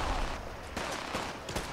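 Gunshots in Fallout 4 come as a few sharp cracks spaced through a loud, noisy game soundscape, fairly close and punchy, with no talk.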